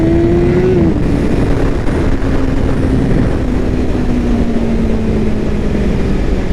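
BMW S1000 RR sport motorcycle engine held at a loud, steady high-rev drone with a slowly shifting pitch, heard close up with strong wind rush.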